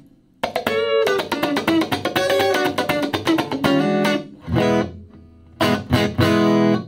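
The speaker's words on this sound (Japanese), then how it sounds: "ナチュラルクリーンの時はもちろん普通のこういう音ですね。" An electric guitar plays a natural clean tone through a Line 6 HX Stomp, with ringing strummed chords and single notes in bright, close bursts separated by short gaps.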